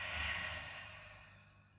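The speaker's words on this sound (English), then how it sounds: "Inhale through the nose. Exhale through the mouth." One long, soft exhale through the mouth during a home yoga flow, close to the microphone, breathy at first and fading out over almost two seconds.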